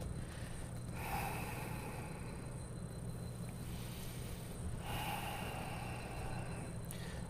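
Slow, heavy breathing held in a yoga plank: two long, close airy breaths in an even rhythm over a steady low background hum.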